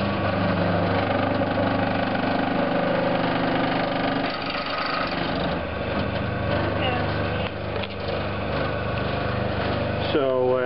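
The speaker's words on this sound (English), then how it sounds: "So we're right next to the motor now" An electric motor drives a blue wheel at full speed, heard up close as a loud, steady broadband whir and hum that holds constant throughout, with a brief rising whine near the end.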